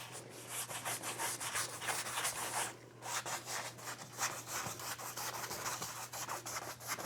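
A paintbrush rubbing over canvas in quick crisscross strokes, a close, dry, scratchy swishing that keeps a fast back-and-forth rhythm with one brief pause in the middle.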